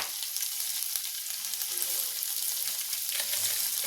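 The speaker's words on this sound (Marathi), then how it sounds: "हे एकत्र करून आपल्याला थोडंसं फ्राय करून घ्यायचं आहे" Cumin, mustard seeds, asafoetida, crushed garlic, ginger and green chilli fry in hot oil for a dal tadka, giving a steady, bright crackling sizzle close by with no talking.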